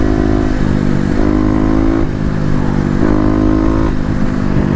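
A Kawasaki KLX250 motorcycle accelerates hard up close, its engine note rising through four quick successive gear pulls with short shift breaks between them, with no voices.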